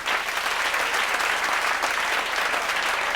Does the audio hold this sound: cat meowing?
no